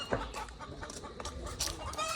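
Chickens cluck in short, soft bursts a short way off, with a few sharper calls over faint outdoor background.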